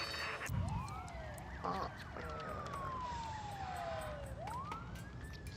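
Fire truck sirens in the city-building game SimCity 5, a wailing siren sweeping up and down over steady background noise, with a brief voice near the start.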